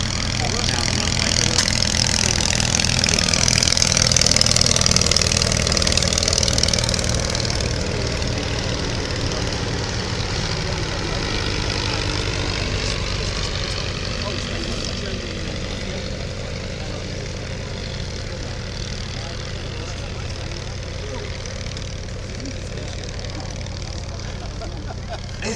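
An English Electric Wren light aircraft runs its engine and propeller down the runway at the Shuttleworth Summer Airshow 2025, a steady droning hum that swells early and then eases, with a commentator speaking throughout.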